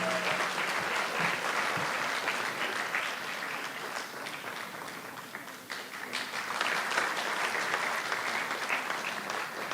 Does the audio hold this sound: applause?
yes